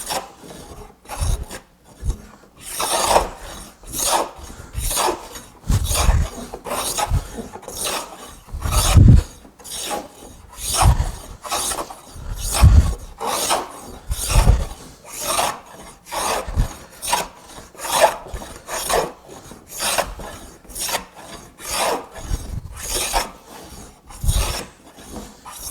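A hand plane shaves wood while flattening a board, producing a long series of rhythmic rasping strokes, roughly one every second, close and fairly loud with no talking.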